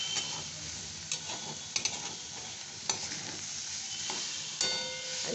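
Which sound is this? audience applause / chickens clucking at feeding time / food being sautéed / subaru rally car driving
food being sautéed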